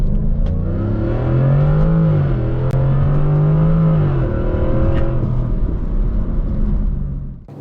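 A 2022 Jaguar F-Type R P575 launching hard on a wet road with its wheels spinning. The engine note climbs and dips through the revs for several seconds, loud and close, before easing off at the end.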